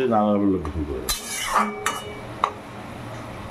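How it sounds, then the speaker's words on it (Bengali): Chana masala stirred in a pot after water goes in: a few clattering scrapes and clinks of a spoon on metal following a voice speaking at the start. "জলটা দিয়ে ভালো করে 4-5 নাড়ি চাড়ি নিলাম"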